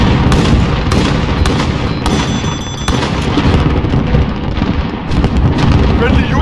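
Missile launch amid gunfire in a military video game, loud dense bursts of shots and booms crowding together with brief tonal beeps partway through, continuous and close.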